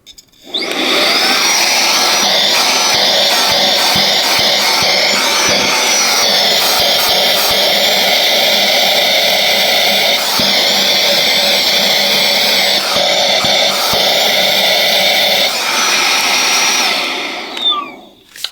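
A vacuum cleaner with its nozzle attached sucks up small cardboard bits, a loud close whining roar that runs steadily with brief pitch dips and rattles as pieces are drawn in, then winds down at the end.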